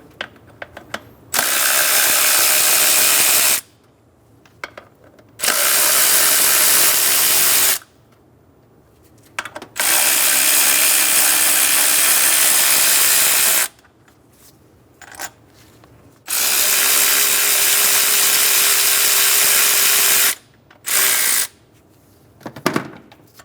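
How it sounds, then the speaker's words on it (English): A power ratchet on a 12mm socket removes the nuts and bolts of the throttle body on a 2003-2008 Honda Pilot. It comes as loud mechanical whirring bursts of a few seconds each, separated by short near-silent pauses. "Using a 12mm socket, we're going to remove the 2 nuts and 2 bolts for the throttle body"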